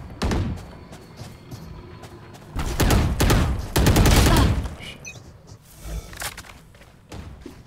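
Gunfire at a shooting practice range in a video game: several loud volleys of rapid shots come in separate bursts with short pauses between them, close and dominant, with no talking.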